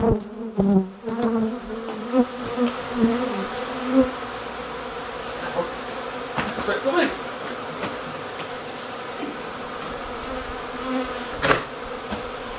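Honey bees pour out of a beehive just moved 180 miles, a dense, continuous buzzing swarm close by with individual bees droning past loudly over the steady hum.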